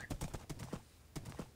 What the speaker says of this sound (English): What do you think of my horse, Hank General?